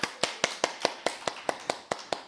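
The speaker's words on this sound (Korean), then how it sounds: "자, 그럼 우리 이제 다 같이 박수." A church congregation claps together in unison during a sermon, about a dozen evenly spaced, crisp claps in a steady beat.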